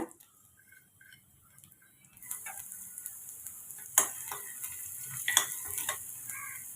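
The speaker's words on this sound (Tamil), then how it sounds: "எண்ணெய் சூடானதும் வெங்காயம் சேர்த்துக்கோங்க" After a quiet start, a steady sizzle of onion frying in hot oil begins, with occasional clicks and stirring scrapes close by.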